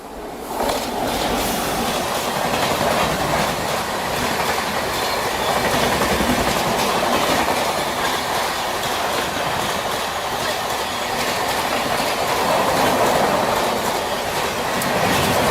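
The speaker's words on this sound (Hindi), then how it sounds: "सामने से कोई ट्रेन क्रॉस हो रही है" An Indian Railways train passes close by from the opposite direction, a loud, continuous roar of rolling wagons with clickety-clack wheel beats and some squealing, alone without talk.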